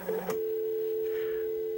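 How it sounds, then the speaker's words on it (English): A steady, continuous telephone dial tone hums alone after a brief higher tone at the start, clear and unbroken, on a line used with a Commodore 64 1670 modem. "we got dial tone."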